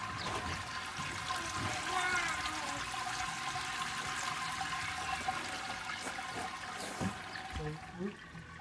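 Sparge water pours steadily over a grain bed in a Brewzilla 35 all-grain brewing system outdoors. A soft, continuous trickling and splashing runs throughout with faint background noise, and a few sharper knocks come near the end.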